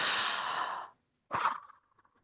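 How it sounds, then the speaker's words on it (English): A deep breath taken during a calming exercise: a long, audible inhale followed by a short exhale, close and quiet, with no speech. "And then breathe."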